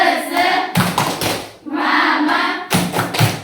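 Indonesian schoolchildren in a classroom doing a rhythmic spirit clap, tepuk semangat, in loud, close bursts of group clapping separated by short pauses, with some chanting voices mixed in.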